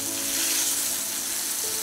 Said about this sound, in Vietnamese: Em phải áp chảo 4 cái mặt của cái phần thịt bò vàng lên nữa rồi em mới cho cái nước sốt cam vào